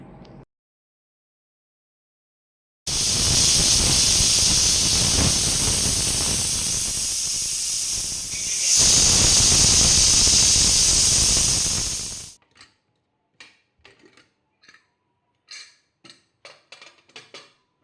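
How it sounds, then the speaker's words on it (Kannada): A pressure cooker of white peas vents steam in two long, loud hissing whistles, followed by a series of short sharp clicks and taps as it quiets down. "ಈಗ ನಾನು ಒಂದು ನಾಲ್ಕು ಐದು ವಿಸಿಲ್ ಆದರೂ ತೆಗಿಬೇಕಾಗ್ತದೆ"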